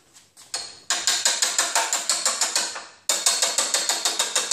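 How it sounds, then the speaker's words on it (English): Metal chisel work on a 2013 Honda Accord during collision repair: a series of sharp, rapid metallic strikes in quick regular bursts, close and loud, with a brief pause before the hammering resumes. "Alright, I'm going to start chiseling, see if it'll pop off."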